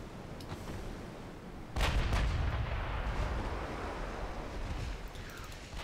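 Naval artillery fire from older armoured cruisers and warships in a naval combat video game: a heavy boom at about two seconds, then a rumbling low roar and scattered distant shots over steady background noise.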